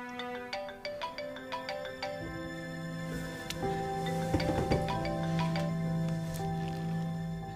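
A phone ringtone plays on and on with no answer, a bright repeating melodic tone that rings in steady bursts, with a fuller musical backing swelling in the second half.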